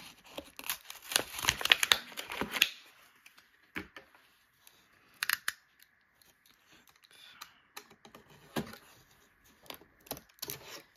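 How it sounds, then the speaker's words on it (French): A package is cut open with a small box cutter, giving a cluster of close crinkling and scraping bursts, then sparse, quieter rustles and sharp taps of cardboard and plastic handling. "Hop, on va ouvrir le petit cutter."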